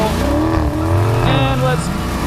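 Dodge Challenger Scat Pack doing a line-lock burnout at a drag strip, a loud close V8 engine roar with rising revs and squealing tire tones, with speech over it.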